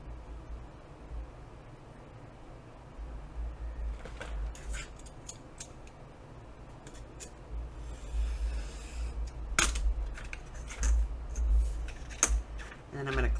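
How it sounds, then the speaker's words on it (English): Scissors cut through a paper bag being trimmed for a handmade journal, making intermittent crisp snips and crinkly rustles close by that get louder and more frequent toward the end. "So I'm going to cut this at 3 3/4."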